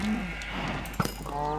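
Cows in the video game Minecraft give a short, low moo that stands out clearly over a steady background hum, with a brief clink in the middle.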